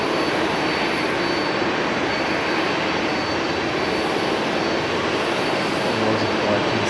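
A Skymark Airlines jet airliner in Pikachu livery roars steadily at Haneda airport, a broad continuous engine wash holding at constant loudness throughout with no voices.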